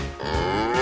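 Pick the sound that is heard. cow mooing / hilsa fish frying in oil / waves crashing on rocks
cow mooing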